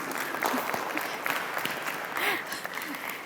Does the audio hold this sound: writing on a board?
no